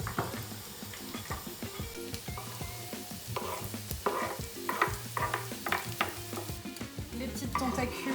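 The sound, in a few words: chorizo, onions and garlic frying in a pan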